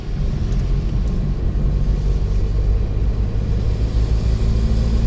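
A car engine rumbles steadily during a driving lesson while the gears are changed, holding a low continuous drone throughout.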